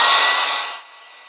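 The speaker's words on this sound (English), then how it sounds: "Now I'm going to let these two trees dry with a hair dryer." A hair dryer blows a loud, broad rushing whoosh over a watercolour painting of fir trees, then drops to a softer hiss after less than a second as it winds down or moves away.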